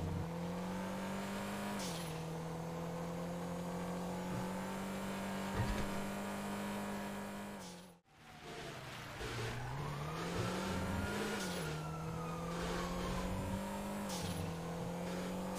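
A car engine revs and races in GTA V roleplay, a loud, sustained whine that climbs and drops through gear changes, cuts out briefly mid-run, then roars back up again.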